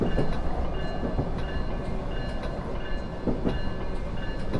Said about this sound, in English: It's just this braking's super unrealistic.